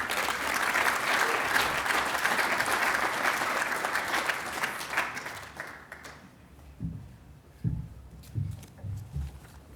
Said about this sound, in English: give him a real warm welcome applause, please.